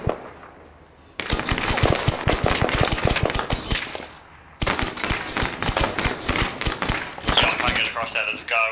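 Light machine gun fire in a military squad-training video game: rapid bursts of sharp repeated shots in two long volleys separated by a short pause, close and loud, with radio-style voices talking over parts of it.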